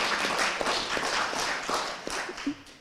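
An audience at an indoor hearing claps for a panel, a brief spread of hand claps that thins out within a few seconds.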